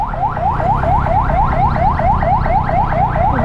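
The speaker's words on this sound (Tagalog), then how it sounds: "patabi tayo dahil may nag-alarm" A car alarm near a Davao bus terminal wails in a steady repeating rising whoop, about three cycles per second, loud and continuous over low street rumble.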